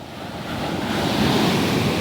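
Heavy surf pounds the shore during a typhoon, a dense, continuous roar that swells slightly louder over two seconds, mixed with strong wind noise on the microphone.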